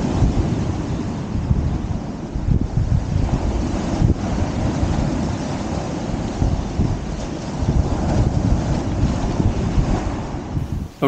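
Sea waves breaking on the shore at Dungeness while fishing, a steady loud roar of surf with wind buffeting the microphone throughout, no voices.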